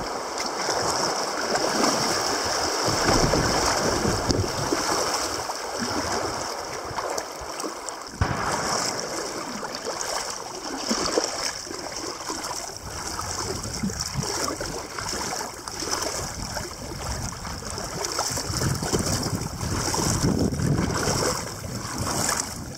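Shallow river water rushes and burbles steadily around a boat or kayak scraping the bottom, a continuous broadband wash close to the microphone with no talking.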